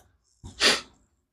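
A single close, sharp human sneeze with a short intake of breath before it, heard alone in a quiet moment at an outdoor barbecue.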